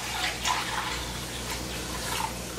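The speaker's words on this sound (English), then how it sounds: "this is ready for me to start adding the milk." Milk being poured into a pan for white pepper gravy: a steady, close splashing stream of liquid that runs on without a break.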